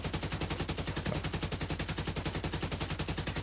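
A gun empties a full magazine in The Division, a steady, rapid stream of loud automatic shots that runs evenly from start to finish with no talking.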